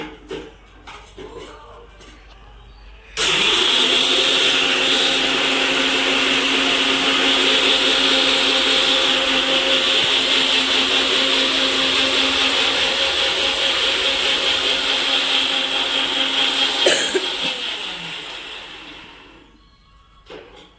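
A mixer grinder whirring loudly as it grinds chilli powder with garlic cloves for gongura chutney, starting abruptly after brief quiet talk, holding a steady high motor whine with rattling for about fourteen seconds, then winding down.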